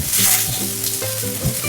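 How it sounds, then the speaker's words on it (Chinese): Ginger and garlic slices with shiitake mushrooms being stir-fried in a hot pan, a loud steady sizzle with scraping stirring strokes, close up and without voices. "香菇的香味已经出来了，接着倒入姜片和蒜片翻炒，"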